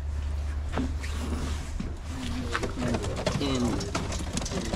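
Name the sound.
racing pigeon cooing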